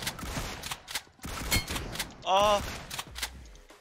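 Pistol fire in the mobile shooter PUBG Mobile, a few sharp, close shots spread over a few seconds amid game noise, with a brief vocal exclamation.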